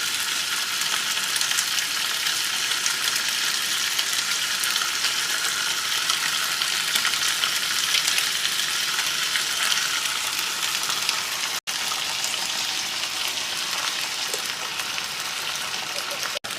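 Mackerel frying in a pan with sauce just added: a loud, steady hiss and crackle of sizzling oil that continues unbroken and close up throughout.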